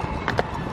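At a Boxing Day horse race, a few quick hoof thuds from a passing horse come through a noisy outdoor crowd.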